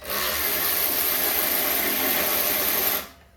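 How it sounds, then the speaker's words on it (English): A Ryobi 3/8-inch drive cordless ratchet spins in one loud, steady mechanical buzz for about three seconds and then cuts off, during a rear brake job on a 2014–2019 Kia Soul. "Very good power for a 3/8 drive cordless ratchet."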